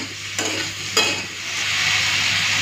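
Chopped spinach dropped and stirred into hot oil, with a couple of sharp scrapes of the spoon followed by a loud, rising sizzle that fills the rest.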